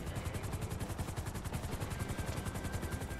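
Helicopter in GTA V with a loud, steady rotor chop, a rapid rhythmic thumping that pulses evenly and close throughout.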